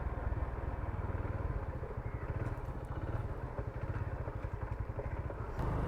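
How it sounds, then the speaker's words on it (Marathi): Motorcycle engine running close by as the bike arrives to park at Kunkeshwar, a steady loud throbbing putter with rhythmic low pulses and slight clatter, no talk. "इथे बाईक पार्क करतो"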